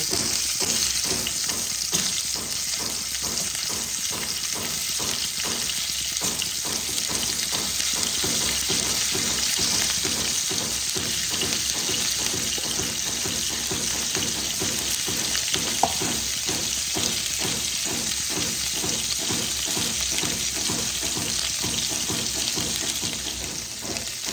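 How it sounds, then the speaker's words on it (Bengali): Cauliflower florets frying in oil with a little turmeric and salt for a Bengali-style rohu fish curry, giving a steady, close sizzle and crackle that runs without pause, with faint water-like hissing and no voices. "এবার আমি ফুলকপিগুলোকে ভেজে নেব।"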